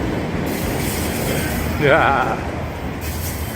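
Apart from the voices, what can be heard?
train passing on railroad tracks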